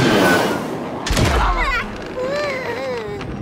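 Gunfire in the LEGO DC Super-Villains video game, a sharp burst around the middle followed by whooshing game effects and a voice.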